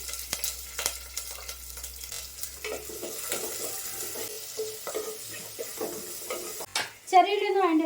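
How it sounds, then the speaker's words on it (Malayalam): Curry leaves and chopped shallots dropped into hot oil in a home kitchen, with scattered sizzling, stirring and clinks of a pan, moderately close, ending in a louder burst of frying. "എണ്ണ ഒഴിച്ചു കൊടുക്കുകയാണ് കറിവേപ്പില ഇട്ട് കൊടുക്കുകയാണ് എന്നിട്ട് കട്ട് ചെയ്ത ചെറിയുള്ളിയാണ് ഇട്ട് കൊടുക്കണം"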